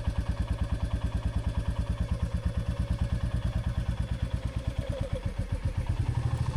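A motorcycle engine thumps in a steady rapid pulse as the clutch is slowly let out and the bike begins rolling, close and even, with the beat shifting slightly near the end as it pulls away.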